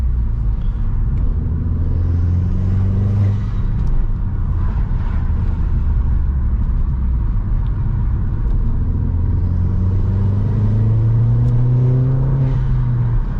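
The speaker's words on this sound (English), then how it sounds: "you can hear the induction kit and that Cobra exhaust that is put on" A Mk1 SEAT Leon Cupra R engine with an induction kit and Cobra exhaust rumbles loudly from close by, rising in pitch through two long accelerations, with a throaty exhaust note and intake whoosh.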